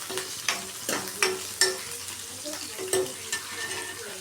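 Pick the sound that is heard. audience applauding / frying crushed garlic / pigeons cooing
frying crushed garlic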